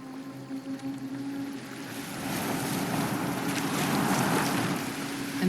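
A boat moves across open water in Assassin's Creed Valhalla, with a steady rush of waves and wind building into a louder, continuous wash, a low hum running underneath.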